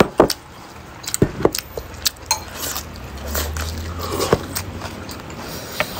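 Someone bites and chews crunchy pickled carrots and onions from a fish atchara, giving sharp crisp cracks in an irregular run up close, with wet crunching between them.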